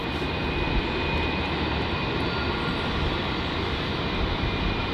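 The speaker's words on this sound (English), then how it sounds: "we were able to catch a glimpse there of that Qantas 717" A Qantas Boeing 717 jet roars steadily at Melbourne Airport in heavy wet weather, a loud, broad, continuous engine rumble with a faint high whine and no voices.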